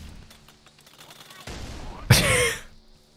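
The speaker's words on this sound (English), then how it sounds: "Is that a brute shot?" A Brute Shot fires in Halo 3, a sudden loud blast with a bright crack and a rumbling tail under other gameplay sounds and a rising whoosh just before it.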